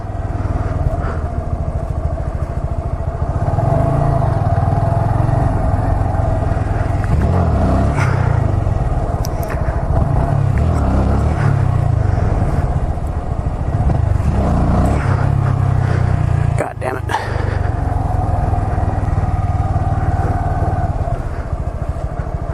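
A motorcycle roars loudly and continuously up close during wheelie attempts, its engine revving and easing in surges with rumbling, clattering mechanical noise.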